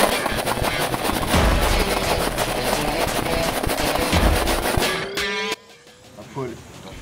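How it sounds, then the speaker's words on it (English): A Digitrigger-equipped mag gun fires rapidly in a continuous stream of sharp shots for about five seconds, then stops abruptly, leaving quieter outdoor background and a faint rising whine. "this is the Digitrigger mag gun."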